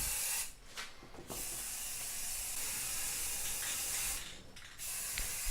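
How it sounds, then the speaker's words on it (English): A spray paint can hisses as it coats dance pad parts, long steady bursts broken by two brief pauses, close and fairly quiet. "I'm spraying the last little bit on the other pad there."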